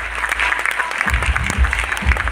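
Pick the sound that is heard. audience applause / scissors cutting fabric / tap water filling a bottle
audience applause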